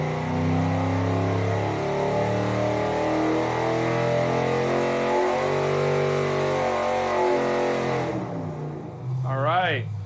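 A built V8 with a giant turbo revs steadily upward through a dyno pull, its loud engine note rising for about eight seconds before cutting off abruptly, and then a voice speaks.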